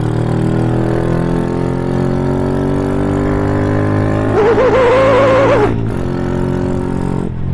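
An NJMX 135 motorcycle with odd noises from the clutch idles steadily and loud, then revs briefly with a rough, uneven rise before dropping back to idle.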